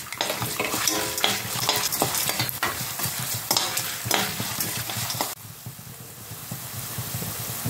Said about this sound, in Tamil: உளுந்து கடலைப்பருப்பு பொரிஞ்சாச்சு. அப்புறம் வேர்க்கடலை கொஞ்சம் போட்டுக்கலாம்.